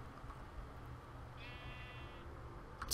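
A single short sheep bleat from the video game Minecraft, faint and thin against quiet background hiss, lasting under a second in the middle.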